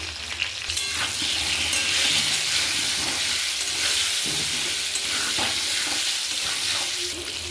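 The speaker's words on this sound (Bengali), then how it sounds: "কিছুক্ষণের জন্য ঢাকা দিয়ে আমি আলুগুলো ভালোভাবে ভেজে নেব।" Potatoes for a mutton curry fry in hot oil with salt and turmeric, a loud, even sizzle with occasional stirring scrapes, close up, steady throughout, and free of talk.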